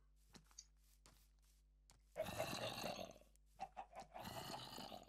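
Chickens cluck in Minecraft, short scattered clucks that break into two louder bursts of squawking and flapping-like clatter, with quiet gaps between them.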